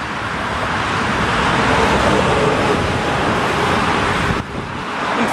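Steady, loud road noise from traffic on Sunrise Highway near the Oakdale merge on Long Island, heard from inside a moving car as a continuous rushing roar with a brief dip near the end.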